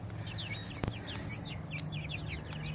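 Baby chickens in an outdoor chicken crib give soft, rapid high peeping calls in quick bursts, close by, with one sharp tap partway through.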